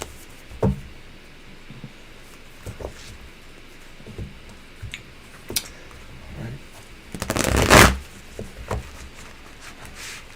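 Tarot cards shuffled by hand at a reading session, a brief riffling burst around the middle among scattered soft taps and handling noises, fairly close and quiet with faint background voices.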